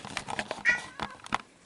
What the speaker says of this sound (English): I had to let my kitty out.